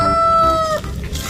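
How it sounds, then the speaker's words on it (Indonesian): A toy rooster sounding an electronic cock-a-doodle-doo, one short bright crow that ends abruptly, heard close and fairly loud over a faint background. "Ini ada ayam berkokok."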